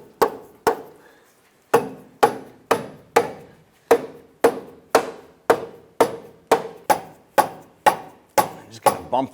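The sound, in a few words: control arm bumped into place on a Cadillac Escalade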